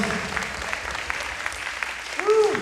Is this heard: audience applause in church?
yes